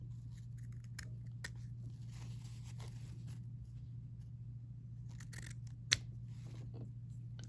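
Scissors snipping fabric at the corners of a sewn seam on a party sash, a series of quiet, irregular cuts over a steady low hum, close and faint, with no talk.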